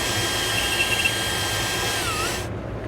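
A power drill bores a hole through the center of a plastic plug, whirring steadily for a couple of seconds, a continuous high-pitched grinding whine that cuts off abruptly near the end.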